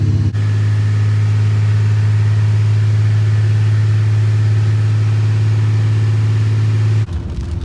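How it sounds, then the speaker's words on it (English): A 2021+ Ford Raptor F150 with a 3.5 EcoBoost twin-turbo kit runs at a steady, loud idle with a strong low drone, cutting off abruptly near the end. "truck sounds good"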